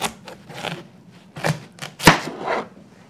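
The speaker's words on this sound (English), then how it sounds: "For cutting the watermelon, I did cut off the end, just like the onion, so I would have a more stable base to cut." A kitchen knife cuts through a watermelon with a series of crisp, close chopping thuds and juicy cracks, one sharp split standing out among the softer cuts.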